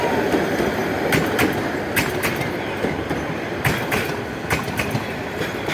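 A train rolls along with rhythmic clickety-clack wheel clicks over a constant loud rumble.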